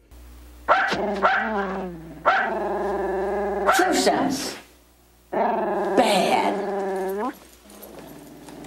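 A dog barks, growls and whimpers in a film, loud close yelps and snarling growls in several long bursts separated by a short pause.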